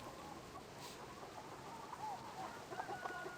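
Chickens clucking in the video game Baldur's Gate II, soft scattered clucks over a low ambient bed, faint and growing slightly busier toward the end.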